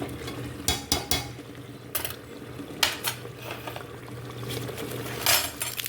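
Ginger garlic paste added to a cooking pot, heard as a few sharp spoon clinks and scrapes against the metal over a low, steady background hum.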